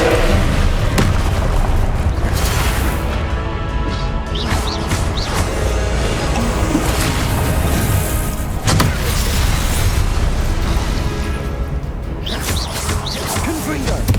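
Confringo blasting spells explode again and again in the video game Hogwarts Legacy, loud booming bursts amid continuous game noise, with a voice talking over them at times.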